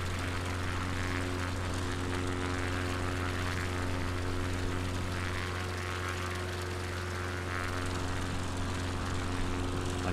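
Steady, droning propeller-aircraft engine in flight near Aberdeen on a UK coastal tour, a continuous loud hum with strong low tones and no talk.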